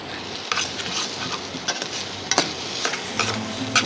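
Eggs frying in a pan while a chicken fried rice is being cooked, giving a steady sizzle with scattered sharp utensil scrapes and taps, close and fairly loud, with no voices.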